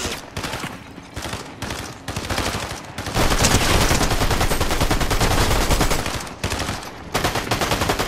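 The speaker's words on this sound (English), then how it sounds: "we got people shooting already!" Rapid automatic gunfire in the video game Fortnite, dense bursts of shots that swell into a sustained loud fusillade midway, then continue in choppier volleys.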